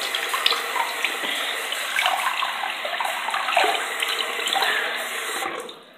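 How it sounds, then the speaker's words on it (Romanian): Tap water runs steadily into a sink during a morning face wash, a continuous close splashing rush with small irregular splatters, alone without talking and fading at the end. "Apoi mă spăl pe față și da."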